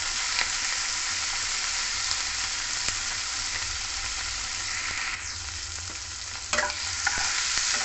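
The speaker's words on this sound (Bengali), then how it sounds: "অল্প সামান্য কাঁচা গন্ধ দেওয়া অবধি টমেটোকে ভেজে নেব।" Chopped tomatoes fry in a pan with a constant hiss of sizzling oil, a few light stirring scrapes and clinks cutting in now and then.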